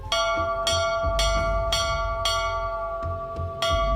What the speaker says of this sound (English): Ceremonial ringing of the bells when a visitor comes.